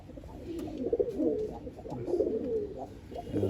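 Pigeons cooing in low, throaty bursts inside a loft, several birds overlapping close by with a steady murmur of cooing throughout.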